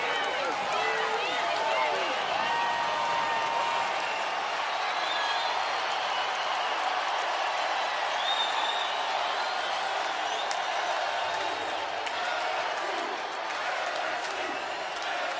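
Large baseball crowd in gold and purple at Charles Schwab Field during the College World Series final, a continuous broad roar of cheering and clapping sustained throughout, with a commentator talking over it.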